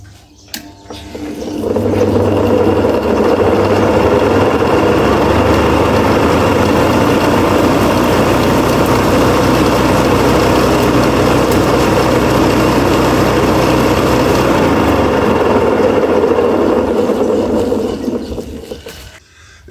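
A small engine rigged to spin a makeshift lawn mower blade runs at a steady drone, starting up after about two seconds and holding a loud, even hum before cutting off near the end.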